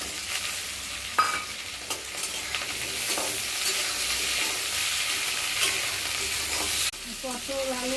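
Potatoes and pointed gourd fry in hot oil in a home kitchen, a dense continuous sizzle with scraping stirs from a spatula breaking through now and then, close and fairly loud.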